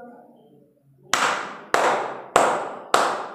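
Four sharp, evenly spaced hand claps take the place of letters in the children's Bingo song during a Class 5 English lesson, following a short sung note; each clap is crisp and close.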